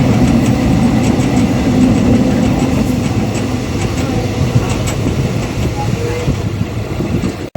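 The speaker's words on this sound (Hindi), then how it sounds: "चेन्नई सेंट्रल मुंबई छत्रपति शिवाजी महाराज एक्सप्रेस यहाँ 6:10 पे पहुँची है" The Chennai Central–Mumbai CSMT superfast express at Kadapa station, a steady, dense rumble of the train and station noise filling the whole stretch, loud and continuous, with a voice talking over it.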